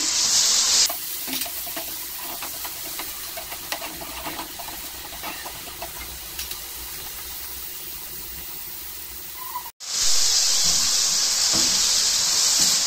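Chopped onions and tomatoes frying in a pan for anda shami give a steady, close sizzle with stirring scrapes throughout, briefly cut off near the end before returning louder and brighter.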